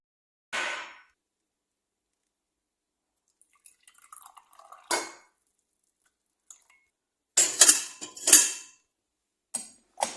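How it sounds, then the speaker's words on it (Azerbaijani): Tea poured into a glass in a quiet room: a few short splashy bursts of liquid with light clinks of glassware, mostly clustered near the end, with near-silence between them and no talking. "Şimdi çay süzüb özümə gəlirəm."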